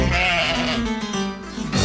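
A goat bleats alone and up close, one long wavering cry that trails off and is followed by the start of another.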